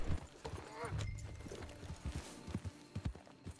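Horse hooves clip-clopping as a rider mounts up and sets off in the Western video game Red Dead Redemption 2, a loose run of close hoof beats alongside a brief whinny, heard beneath game dialogue and other talk.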